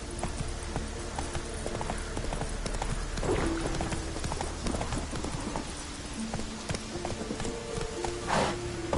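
Roach the horse in The Witcher 3 trots on with steady, rhythmic hoofbeats clip-clopping close by, joined by a few brief voice calls and a faint snort.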